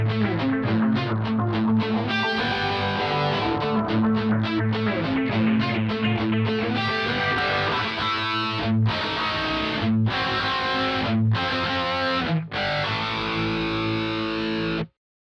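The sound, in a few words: electric guitar with dry-wet-dry stereo delay mix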